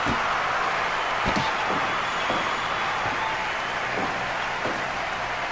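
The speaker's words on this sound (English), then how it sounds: "This crowd standing out firmly behind Franco." A wrestling crowd cheering and applauding behind a favored wrestler, a dense, steady roar of clapping and voices filling the arena with a few sharper bursts.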